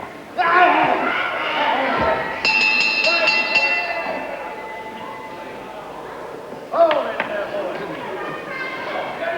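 A bright metallic bell rings out for the end of round 4 at a wrestling match over a loud, echoing crowd roar, its tone hanging and fading before a second strike near the end.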